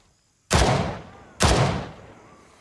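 Two loud gunshots from a video game shooter set in Gray Zone Warfare, spaced about a second apart, each a sharp close blast with a long echoing tail and no talk over them.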